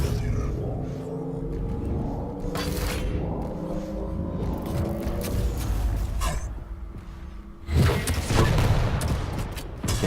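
Rockets explode in a fast arena shooter match, thuds and rumbling blasts over a continuous mechanical din of weapon fire and movement, with a sharp loud burst near eight seconds.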